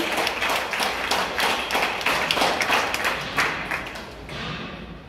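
Students in a classroom clapping for their teacher, steady close applause with many hands tapping in a dense, continuous rhythm that thins slightly near the end.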